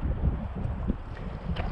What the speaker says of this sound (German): Jetzt haben wir Windstärke 2 von der Seite.